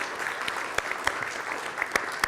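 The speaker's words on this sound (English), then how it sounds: "Let's give him a round of applause." A church congregation applauds during a Scout Sunday service, scattered moderate clapping with a few sharper individual claps standing out, fairly quiet and reverberant.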